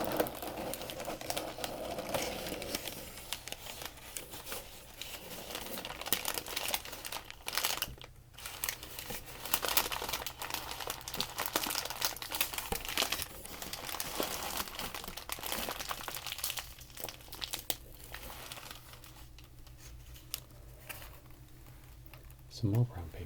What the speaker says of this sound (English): Some more brown paper.